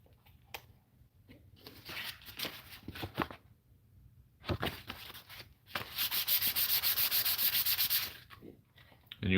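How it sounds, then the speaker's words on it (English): Hand sanding a metal brush guard for a Volvo XC70 with 220 grit sandpaper, rough scratchy rubbing strokes in uneven bursts, close and fairly loud, with a long steady stretch of rapid back-and-forth sanding near the end. "So now we're going to move on to some 220 grit."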